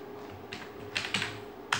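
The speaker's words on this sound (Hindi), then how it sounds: "इस एड्रेस बार में आप टाइप करेंगे मंकी टाइप" Keystrokes on a computer keyboard while entering an address into a web browser's address bar: a few sparse, sharp clicks close by, with gaps between presses and no talking.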